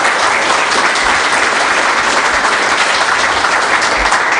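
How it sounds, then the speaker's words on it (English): Audience applause after a conference talk on Ceph object, block and file storage, a steady dense wash of clapping that fills the whole stretch, loud and close with no break. "Come on. Applause."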